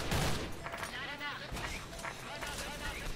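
Gunfire from an AK-103 rifle in a video game, a few sharp shots in quick succession under a noisy, cluttered game mix with a voice talking over it.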